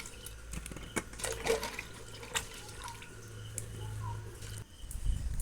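Freshly gathered mangoes being scrubbed and washed by hand in water, with soft splashing, sloshing and dripping close by and a steady watery background.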